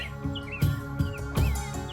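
A pet parrot chirps in short, bright tweets, a few scattered calls over a couple of seconds, close by, amid faint background thumps and hum.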